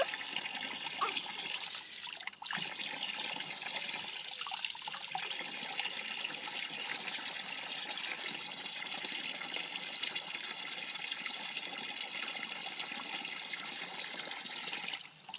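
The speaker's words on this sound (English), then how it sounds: "Splish, splash, splash." Water splashes and trickles steadily as a child plays in it, a continuous watery wash with a few brief louder splashes and no talking.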